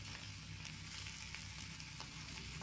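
Butter sizzling on a hot tawa while pav is toasted for pav bhaji, a steady close crackling hiss with no voices.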